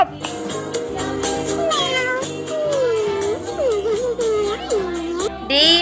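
A cat meows repeatedly in drawn-out, pitch-sliding calls over a steady musical backing, with a final higher meow at the end.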